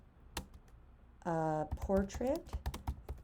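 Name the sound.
typing on a computer keyboard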